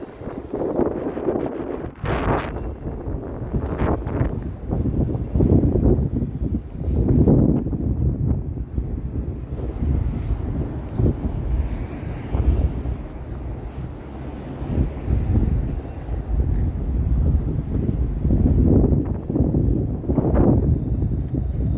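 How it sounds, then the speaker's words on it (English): Strong gusts batter the microphone on a downtown Toronto street on a cold evening, roaring loud and uneven in repeated surges with brief lulls between them. "very windy here. I knew I'd be walking into a wind tunnel"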